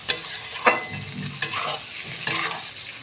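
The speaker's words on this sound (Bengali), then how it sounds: "মশলাটাকে বন্ধুরা একটু হালকা লাল লাল করে ভেজে নেব" Spice masala for a duck egg curry frying in a pan, with three or four sharp scraping stir strokes over a continuous sizzle, heard close with no talking.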